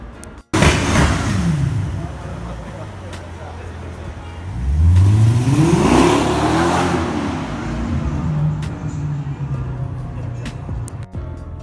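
A Nissan GT-R sports car revs loudly nearby on a city square at night, with sharp bursts and a rising engine sweep that peaks midway, alongside people's voices.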